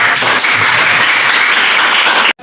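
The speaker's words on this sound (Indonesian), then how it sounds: "silakan beri tepuk tangan untuk kelompok" Students in a classroom career-guidance session applaud a group after its presentation, a dense, steady clapping that fills the room for about two seconds before cutting off abruptly.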